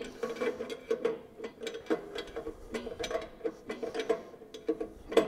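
Brake adjuster on a Bale Baron being tightened by hand, giving a steady series of close metallic ratchet clicks and small mechanical knocks, evenly spaced throughout with no talking.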